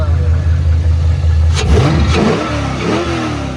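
A freshly tuned 5.7-litre LS1 V8 in a Chevrolet Malibu coupe runs steadily with a deep low rumble and a brief rev midway, while people talk loudly over it.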